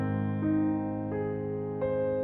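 Piano playing two bars of Liszt's Liebestraum No. 3 slowly, with three soft, widely spaced notes or chords over a sustained resonant background, quiet and close.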